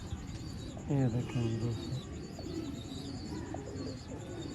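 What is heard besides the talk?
breeder pigeons cooing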